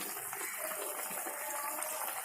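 Water pours into a pan where fish is cooking, a steady broad splashing gush that runs without a break at a close, even level, with no talk over it.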